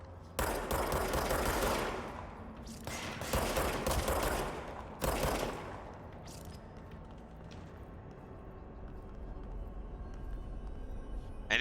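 Enemy gunfire in the video game Control crackles in dense rapid bursts, loud and close, with several separate volleys followed by quieter sporadic shots and low rumble.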